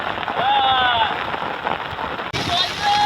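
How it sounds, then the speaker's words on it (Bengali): Rain pours onto a river during the first monsoon downpour, a steady broadband hiss that fills the whole clip, with a brief dip partway through and faint whistling tones riding over it. "প্রথম বর্ষাতেই এরকম বৃষ্টি হচ্ছে"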